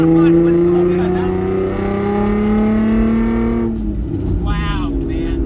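A modified Datsun 521 pickup truck drives along with a loud, steady engine note that climbs gradually, then drops and shifts around the four-second mark, heard close up with occasional voices.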